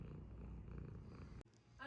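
A pet cat named Stella purrs close and softly in a low, steady rumble, broken by a brief click before the purring resumes.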